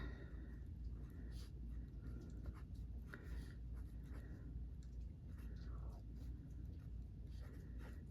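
Pen writing in a coil-bound paper budget planner, steady soft scratching strokes in short bursts, close and quiet, with faint breathing in the background.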